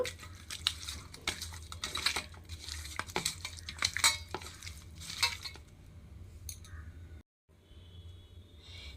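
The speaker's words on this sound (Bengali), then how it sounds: "আমি এটা নিয়ে এবার চিকেনটাকে আমি খুব ভালো করে মেখে নেব" Chicken pieces are mixed by hand in a bowl with grated ginger and garlic paste for a dhaba-style curry, with scattered wet clinks and scrapes against the dish, close and uneven, ending in near silence.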